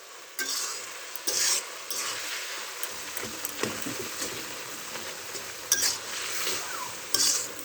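Red amaranth greens stirred in a pan with green chilies, without onion or garlic, make steady scraping and soft sizzling, with a few sharper metallic clinks of the spatula against the pan, close by and with no speech.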